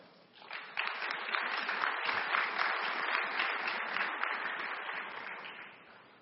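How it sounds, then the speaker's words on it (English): An audience at a plenary session bursts into applause that swells within the first second, holds as a dense, even roar of clapping, then slowly tapers toward the end. "let us give them a round of applause for the diligent work they have done for us"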